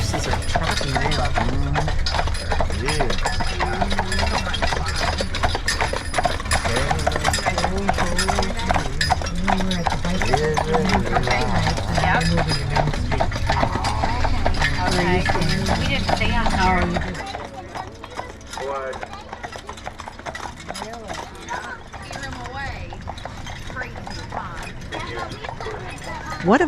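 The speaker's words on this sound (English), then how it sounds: "Our horses are trotting now." Horses trotting on Mackinac Island, their hooves clip-clopping in a quick, even rhythm alongside rattling harness and carriage noise, loud and close, with voices talking over it and the clatter easing off slightly in the last part.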